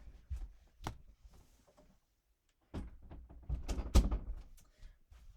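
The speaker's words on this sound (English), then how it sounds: "One second, I'll just close my door." A door is closed indoors, giving a few muffled thunks and knocks at close range; the handling noise is heard alone, without talk.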